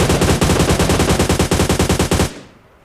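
Automatic gunfire rings out in a battle royale shooter game, a loud, rapid burst of evenly spaced shots lasting about two seconds before cutting off abruptly into a brief fading echo.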